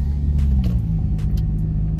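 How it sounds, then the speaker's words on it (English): Cars passing on a road near a gym, a steady low engine and tyre rumble throughout with a few brighter swells as vehicles go by, fairly close and loud, with no voices. "I'm getting a little bit distracted by these cars."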